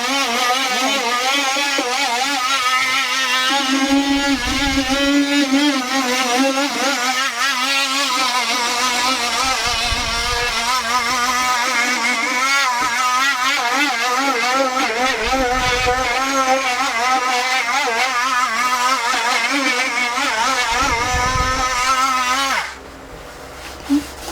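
A power tool sands a wooden dog feeder with a loud, steady whine and buzz that runs nearly 24 seconds without a break, then cuts off at the end.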